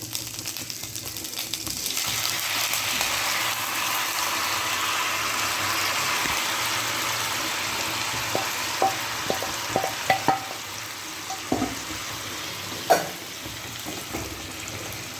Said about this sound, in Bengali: এবার এই ফুলকপিটা ভাজা হয়েছে, এর মধ্যে ঢেলে দিয়ে